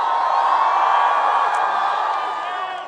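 Large outdoor political rally crowd at Venice Beach, Los Angeles, cheering and whooping in a dense, sustained roar that stays loud throughout and eases slightly at the end.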